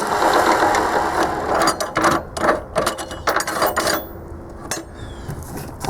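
Homemade hydraulic hose for an old tractor being cut: a close grinding, rasping mechanical noise with rapid clicking and ratcheting bursts, fading to sparse clicks near the end.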